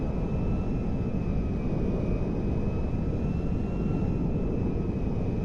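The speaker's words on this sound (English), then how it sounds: "And we're in an A310." Steady, loud jet engine roar of an Airbus A310-300 in the GTA 5 video game, a continuous broadband rumble with a faint high whine, with no talk over it.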